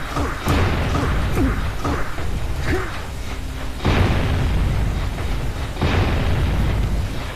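Bomb blast in the Jak and Daxter game at Sentinel Beach: several loud booming bursts with broad rumbling tails, repeated every couple of seconds over a steady mechanical game background, no talking.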